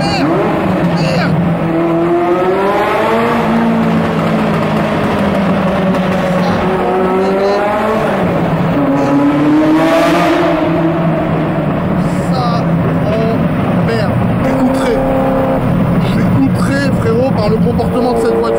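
A Ferrari F40 engine revving hard while drifting, loud and continuous from inside the car, its pitch climbing and falling through gear changes, with excited voices talking over it.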